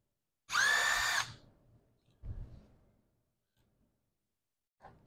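A power drill backing out bolts on a Yamaha FZ-09 radiator gives one short, loud whirring burst, followed by a fainter second spin and a few quiet clicks in a hushed garage.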